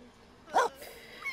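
A video-game dog in The Sims 4 gives one short, sharp bark midway, moderately loud over a quiet background, followed by a faint higher yip near the end.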